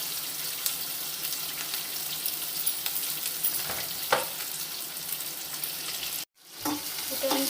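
Onion, garlic and chillies fry in mustard oil for a Tulu-style fish sukka, a continuous close sizzle with a few louder spatters and stirring knocks, briefly cutting out near the end before resuming.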